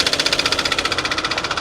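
A damaged Ford Model A engine runs with a fast, steady rhythmic knock, each beat pulsing evenly, loud and close, with no voices over it.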